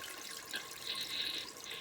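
Water slowly draining out of a newly installed toilet while the flush handle is held down, a steady soft trickling and rushing hiss that continues evenly throughout, close by with no talking.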